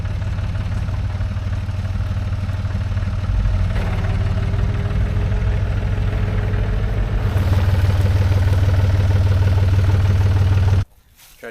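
A tractor engine chugs steadily under load while dragging stumps during land clearing, a loud close rumble with some clatter that swells partway through and then cuts off abruptly near the end.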